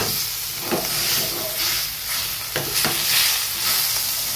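Chopped onion sizzles in a hot pan for eggplant bharit, a steady broadband frying hiss with a few soft stirring scrapes breaking through, close and even throughout.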